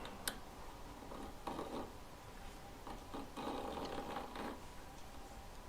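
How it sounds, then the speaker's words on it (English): A metal file rasps against an earring post while notching it, in short scraping strokes with brief pauses, close and fairly quiet, no voices. "I rotate it as I'm grinding my file upwards over it"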